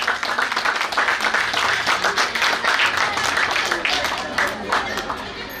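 A school annual day audience breaks into loud, sustained applause, dense overlapping claps from a large crowd that hold steady and then ease off slightly near the end.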